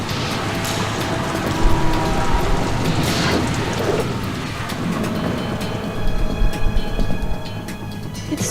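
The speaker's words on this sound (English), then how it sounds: "It stopped raining." Heavy rain hisses steadily on a ship's deck in the Metal Gear Solid 2 tanker stage, with rumbling thunder rolling underneath and swelling in bursts.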